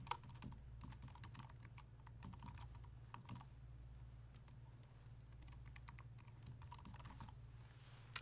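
An email address typed on a computer keyboard while setting up a GitHub Pages account: a faint, steady patter of key presses in irregular quick bursts over a low constant hum, with no talking.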